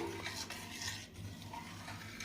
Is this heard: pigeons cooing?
no